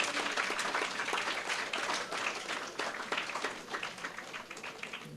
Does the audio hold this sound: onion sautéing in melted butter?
no